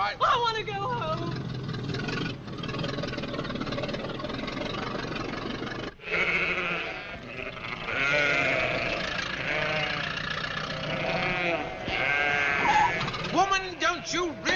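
Several sheep bleat loudly and repeatedly, overlapping calls close by, with a low engine rumble from a vintage car underneath.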